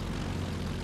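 Propeller plane engine in the video game Just Cause 3, a steady droning hum with low rumble, continuous and fairly loud for under a second with no talk.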